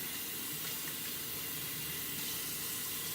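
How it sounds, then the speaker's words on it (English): Warm tap water runs steadily while hands are washed beneath it, a continuous close hiss and splash with no break. "now, since we need 2 hands, we are going to wash our hands again. And I like to use warm water"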